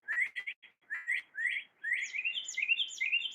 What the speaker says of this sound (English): now there's birds and it's nice